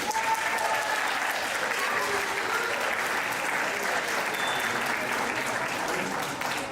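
An audience at a fifth-grade orchestra and band fall concert applauds the teachers, a dense, steady wash of many hands clapping that stays loud and even for the whole stretch, with no voices rising above it.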